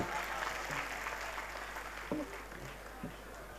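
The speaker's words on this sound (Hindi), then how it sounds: "तालियां बजा सकते हैं आप" An audience claps steadily at a Hindi comedy poetry gathering in Niwari. The applause is soft and distant, a continuous wash throughout, with a few brief voice sounds near the end.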